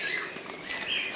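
Birds sing and chirp in trees along a coastal walk at Morecambe Bay, bright high tweets overlapping in a short burst at moderate distance with no talking.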